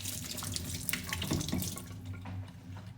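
Food is rinsed under a running kitchen tap while cooking tinola, with a steady close stream of water splashing and shifting as the food is moved beneath it.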